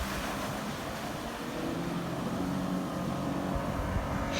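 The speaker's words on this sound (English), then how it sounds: "tackle these terrains with his 4-liter Toyota Fortuner V6" A 4-liter Toyota Fortuner V6 pushes through deep water, giving a steady, loud wash of churning water and low engine rumble that holds evenly throughout with no talking.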